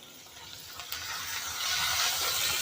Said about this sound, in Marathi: थोडी फोडणीमध्ये कोथिंबीर टाकते